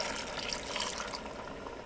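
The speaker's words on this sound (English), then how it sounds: "A little bit of water." Water poured into a cooking pot holding cauliflower, peas and potatoes, a continuous soft splashing rush for about two seconds, fairly quiet with no voices.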